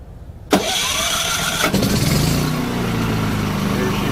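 A Champion 3400 propane RV generator with the choke out cranks and catches, then settles into a loud, steady mid-pitched idle close by after a second brief cranking burst.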